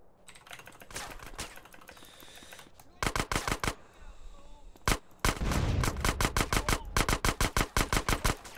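Rapid bursts of video game gunfire, a machine-gun-like stutter in several sharp volleys, loud and close, separated by brief quieter stretches with faint background sounds.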